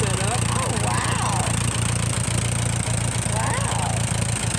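A 1947 Dodge Power Wagon engine idles close by with a steady, even rhythmic chug throughout, with no talking over it.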